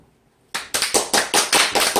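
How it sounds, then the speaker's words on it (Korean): A congregation at a Sunday worship service in the Guri sanctuary breaks into clapping after a short silence, with loud, sharp claps landing in a steady, almost unison rhythm. "여러분 박수 올리시죠"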